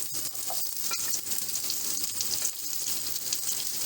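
Vegetables such as capsicum and carrot added to sautéed ginger and garlic for dry chicken manchurian, giving a loud, steady, close sizzle and crackle with stirring, no voices.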